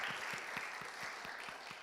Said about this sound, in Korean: 윤건치 한인 회장님, 우리 큰 박수 부탁드리겠습니다